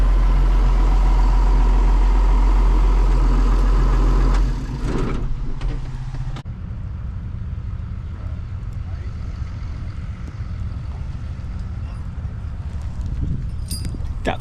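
Old Ford 5000 farm tractor engine running at an equipment sale: a loud steady low rumble that suddenly drops to a quieter idle partway through, continuing as a lower, rough hum with outdoor background.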